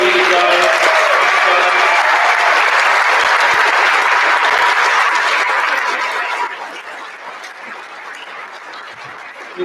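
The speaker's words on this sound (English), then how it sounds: "one big applause for these guys" Loud, dense applause from a crowd honoring senior players at a senior night alumni basketball game, steady for about six seconds before thinning to scattered clapping and murmurs.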